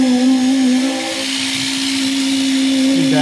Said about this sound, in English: with the help of a vibrator we are consolidating the concrete